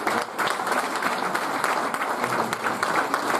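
An audience applauds a player at a cricket club awards night, with dense, steady clapping from a roomful of people, loud and continuous throughout without pause.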